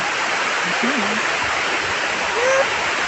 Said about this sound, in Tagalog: Dito na kami sa baba ng Canumantad Falls.